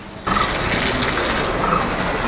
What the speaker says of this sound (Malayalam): ചെടിക്ക് വെള്ളം ഒഴിച്ച് കഴിഞ്ഞിട്ട്